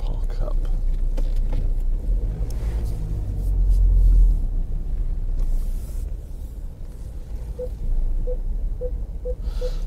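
A car idles with a low, steady engine rumble while parking after a drive between Dover and Margate, with a brief swell around the middle and a faint rhythmic ticking, like an indicator, near the end.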